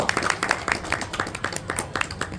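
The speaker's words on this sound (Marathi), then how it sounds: "त्यांच्यासाठी एकदा जोरदार टाळ्या." A smaller audience claps for a tabla player, uneven individual hand claps rising and falling in a brief, lively burst, fairly close.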